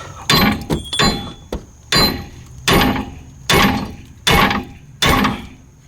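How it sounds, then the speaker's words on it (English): Heavy metal hammer blows strike a wheel bearing hub on a Subaru Forester repeatedly, about eight sharp clanging hits with ringing overtones, spaced unevenly at first then steady, loud and close. "I just took the hammer and just hit this a bunch of times"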